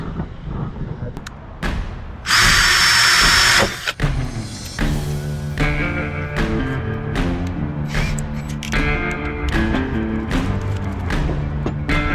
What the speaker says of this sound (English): I'm actually going to just drill a small hole in this first one